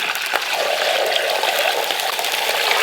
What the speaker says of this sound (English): And we're going to go ahead and pour water over these.